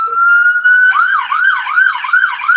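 An ambulance siren wails loud and near, first holding a steady tone, then switching to a rapid rising and falling yelp as it passes.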